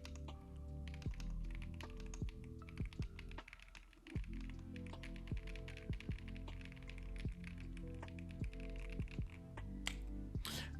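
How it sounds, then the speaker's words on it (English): Rapid, even keystrokes on a computer keyboard are picked up by a Fifine Ampligame AM8T dynamic microphone, a dense run of close clicks with a brief pause and a sharp snap near the end. "let's go ahead and do a quick typing test"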